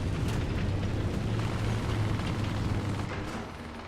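A 128mm cannon on a Maus heavy tank fires in the War Thunder video game, a single heavy boom followed by a rumbling decay that fades out over a few seconds.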